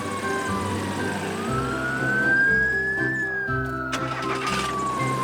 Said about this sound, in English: The fire engine is in a big hurry.